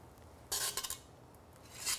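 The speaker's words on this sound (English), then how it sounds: "you can use an ice cream scoop to portion these out" A metal ice cream scoop portioning whoopie pie batter gives quiet, brief scraping clicks in two short bursts against a hushed kitchen background.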